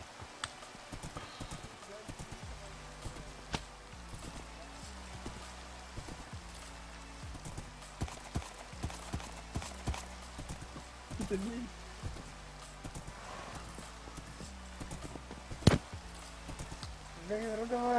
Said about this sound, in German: Ihr Pferd fällt gleich hier runter.